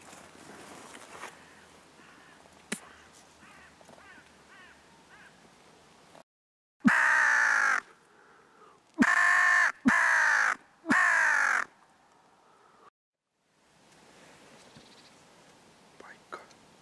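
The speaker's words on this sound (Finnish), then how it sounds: "Variksia näkyi aika hyvin, mutta ei kiinnostunut kuvista ja pilliistä." Hooded crows caw loudly and close during a crow hunt, in four harsh bursts with short gaps between them, set against a quiet outdoor background with faint rustling.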